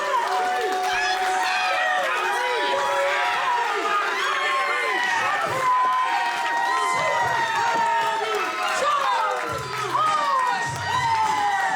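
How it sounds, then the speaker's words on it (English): A wrestling crowd erupts in loud, sustained cheering and shouting at a championship match, a dense roar of many voices with high excited yells rising and falling throughout. "You heard the explosive reaction from that crowd."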